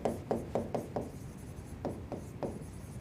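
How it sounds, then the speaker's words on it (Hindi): A pen scratches across a board during a general knowledge lesson, in a quick series of short, distinct strokes with brief pauses between them, fairly faint and close. "मैं यहाँ पे लिखती हूँ ईस्ट फ्लोइंग"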